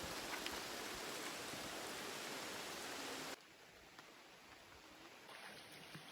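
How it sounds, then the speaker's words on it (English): Steady, hissing rain pours down on a forest near hot springs in Krabi, Thailand, for a few seconds, then drops abruptly to a much quieter, softer patter. "listening to the rain in the forest"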